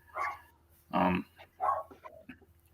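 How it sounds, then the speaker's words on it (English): Three or four separate barks from a dog close by, loud and spaced out, each followed by a short gap. "My dog's barking their damn little head off."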